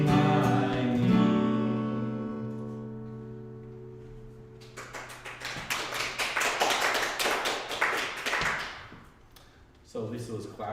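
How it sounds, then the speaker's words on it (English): Lisa clapping during a Sunday church service, a rhythmic run of hand claps over sustained singing and organ-like tones, dropping away and returning briefly near the end. "So Lisa was clapping."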